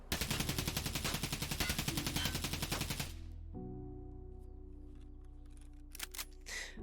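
Rapid, loud automatic bursts from a SCAR rifle in Escape from Tarkov, a dense steady stream of shots for about three seconds, then quieter ringing tail and a few faint clicks and handling noises.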